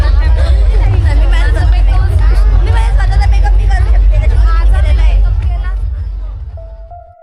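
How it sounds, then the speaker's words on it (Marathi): Dense crowd of devotees at the Raiyba Devi temple fair, a loud, continuous roar of overlapping voices and chatter that fades out near the end, with a brief steady tone just before it stops. "भक्तांची गर्दी"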